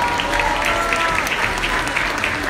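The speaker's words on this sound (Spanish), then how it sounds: "Un fuerte aplauso para todos ellos" Steady, full applause from the audience at a Rotary Club swearing-in ceremony in Atlatlahucan, Mexico, a dense continuous wash of clapping with crowd murmur underneath.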